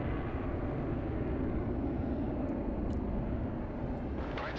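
Aircraft engines in the video game Broken Arrow make a dense, steady roar that stays loud and close without a break for several seconds.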